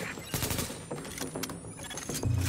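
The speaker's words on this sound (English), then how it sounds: "With all that gunfire drawing the Rikers' attention" Bursts of gunfire crackle through a fight in the video game The Division, rapid shots mixed with loud impacts and clatter, dense and close over a short stretch.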